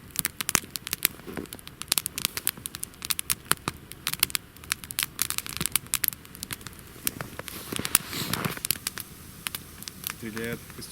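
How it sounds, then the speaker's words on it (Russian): A campfire of damp, wet logs in the Ural taiga crackles and pops in sharp irregular snaps over a soft hiss, close by and fairly quiet, with a voice speaking near the end. "Стреляет костерчик сегодня."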